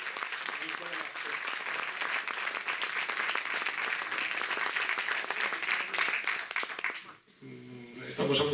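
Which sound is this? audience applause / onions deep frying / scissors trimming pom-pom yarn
audience applause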